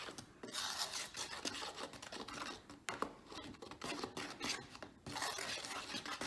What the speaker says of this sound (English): And so the whisk, as you can see, really helps to dissolve the talc and get it well mixed in.